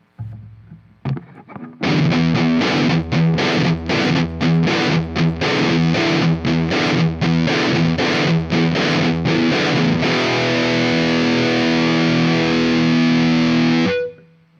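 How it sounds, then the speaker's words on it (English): Aggressive distorted electric guitar through a humbucker pickup and amp chugs a rhythmic riff of rapid palm-muted chords, then holds a long sustained chord before cutting off, loud and in-your-face. "that humbucker plus this amp, really kind of aggressive in-your-face tone"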